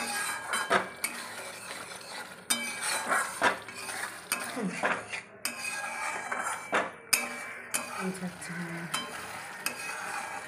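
Masala for a Gangetic koi fish curry sizzles and fries in a pan while a utensil stirs and scrapes it, with irregular clinks and scrapes over a steady close hiss and no voices.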